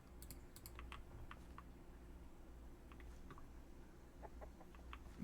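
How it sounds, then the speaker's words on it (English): Soft, faint clucking of chickens in a video game blends with the light clatter of keyboard typing, all quiet and a little distant. "Do the different chickens make different sounds?"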